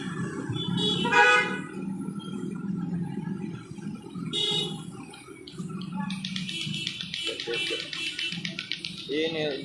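Car horns toot repeatedly amid a traffic jam where a queue of cars and trucks waiting at a petrol station in Pare-pare has backed up to the roadside, with steady engine rumble and a voice talking over the scene.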